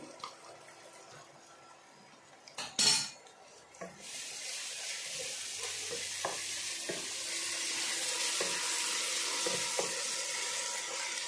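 Freshly ground ginger-garlic paste sizzles loudly in a hot pan for Andhra-style gongura chicken, with a sharp burst near the start, stirring scrapes, and a steady frying hiss that swells and holds to the end.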